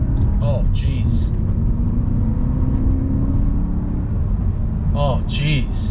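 A BMW M3 V8 with no exhaust pulls through three gears under steady, loud road rumble heard from inside the car, with occupants talking briefly at the start and near the end.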